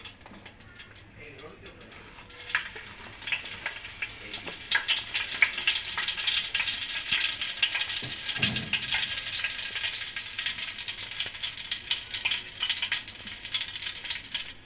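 Cumin seeds hit hot oil in a pot and crackle into a loud, busy sizzle that builds and holds, with a few stirring scrapes and a voice speaking over it.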